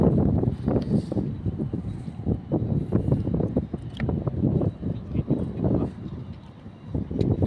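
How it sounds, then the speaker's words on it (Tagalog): Strong wind blows across a tidal waterway channel where a fishing net is cast, buffeting the microphone in choppy bursts of low rumble, with faint voices mixed in. "nangingibabaw yung hangin. May kalakasan po ang hangin dito."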